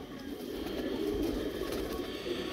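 Pigeons coo softly amid a steady low rumble of background noise, the calls blending into a continuous murmur with no talking.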